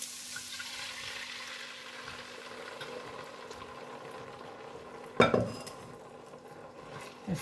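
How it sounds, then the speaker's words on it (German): Sauce pours into a frying pan of sizzling onions cooked with a little sugar. A steady hiss runs throughout, then a sharp, brief splash and spatter rises near the end. "jetzt kommt die Soße hier rein"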